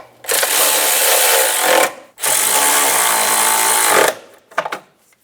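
A power tool snugs down two nuts on the plastic radiator cover of a 2000-2006 Toyota Tundra, two loud sustained whirring bursts separated by a brief pause, then a few quick rattling taps at the end.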